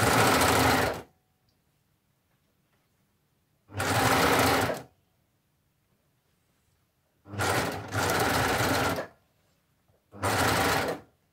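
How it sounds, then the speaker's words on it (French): A Baby Lock Ovation serger sews through three layers of sweatshirt fabric and neckband, giving four loud, even runs of whirring motor noise, each about a second long, with quiet gaps between them. "Alors là, je surpique les 3 couches en même temps."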